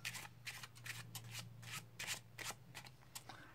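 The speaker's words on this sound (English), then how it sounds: "with another shuffle" Close, quiet overhand shuffling of a deck of playing cards: steady repeated papery swishes and taps falling in a brisk loose rhythm, with no speech over them.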